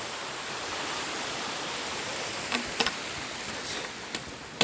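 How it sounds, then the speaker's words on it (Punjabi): Mountain meltwater rushes past thick snow at about 15,210 ft as a steady, dense wash of flowing water, with a few faint clicks and knocks near the end. "ਪਾਣੀ ਵਗ ਰਿਹਾ ਵੇਖੋ"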